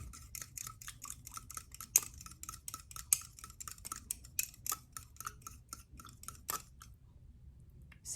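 A gooey homemade acne mask mixture containing glycolic acid is stirred in a small container, making a series of quiet, sticky, clicking taps in an irregular rhythm that stops briefly near the end.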